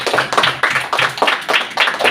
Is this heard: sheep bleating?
no